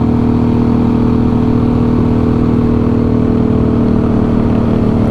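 A 2021 Yamaha MT-09 motorcycle engine runs with a loud, steady, close droning hum at an even pitch throughout, without clear rises in revs.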